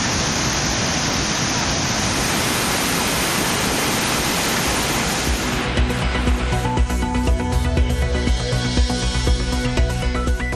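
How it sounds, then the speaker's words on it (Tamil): Thirparappu waterfall in Kanyakumari gushing hard after widespread rain, a loud, continuous broadband roar of crashing water that fills the whole clip, with a slight shift in texture partway through. "கன்னியாகுமரியில் பரவலாக பெய்யும் மழையால் திருப்பரப்பு அருவியில் ஆர்ப்பரித்து கொட்டும் தண்ணீர்."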